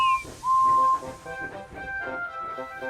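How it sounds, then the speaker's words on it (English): Toy train engine whistle from a Thomas & Friends story: a loud, steady tonal whistle blast near the start, then fainter whistle tones over background music and clatter. ""Hello, Emily," whistled Whiff cheerfully."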